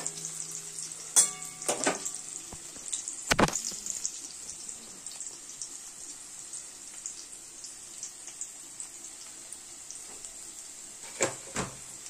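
Onion, chilli and crushed garlic fry in a pan, a constant bright sizzle under a few sharp knocks and scrapes of a spoon stirring near the start and end.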